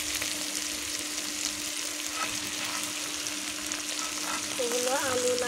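Potatoes and bitter gourd fry in a pan with a steady, close hiss and sizzle that continues throughout, and a brief tonal squeak comes near the end.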